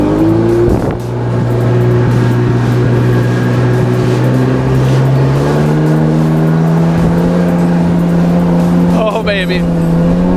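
Sea-Doo jet ski engine accelerating hard on a lake, a loud sustained whine that climbs steadily in pitch as it gains speed, with wind and spray noise throughout.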